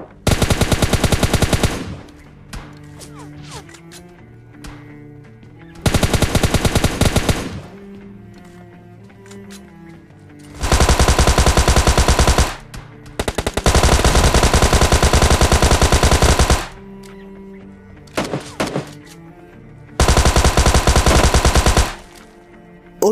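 PUBG Mobile Lite gunfire: several loud, close bursts of rapid automatic fire separated by short quieter gaps of in-game ambience, with no talking.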